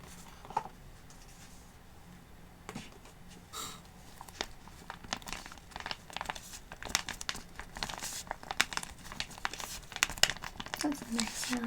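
Plastic cosmetic packets, including hair and foot peeling packs, are squeezed and handled close up in a soft ASMR setting, giving continuous fine crinkling and rippling that builds denser and louder toward the end.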